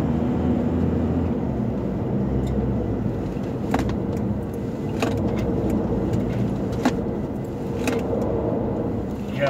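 An SUV on Michelin LTX Force all-terrain tyres drives a test course, giving a steady, fairly loud rumble of engine and tyre-road noise throughout with a few brief sharper ticks and clicks.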